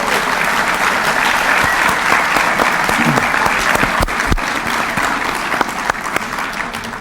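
An audience applauding Hall of Fame members at a pool event, loud sustained clapping that fills the room from start to end, with a couple of sharper knocks partway through.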